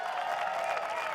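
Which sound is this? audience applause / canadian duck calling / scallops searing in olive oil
audience applause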